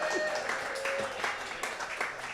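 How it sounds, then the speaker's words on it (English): Applause from a pub quiz audience in a room, a steady wash of clapping at moderate level with some chatter mixed in. "you certainly got the pity applause for it"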